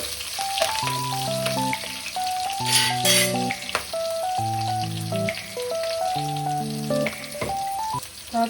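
Green chillies sizzle steadily in hot oil while tempering for a bottle gourd (sorakaya) pappucharu, a continuous frying hiss under prominent background music.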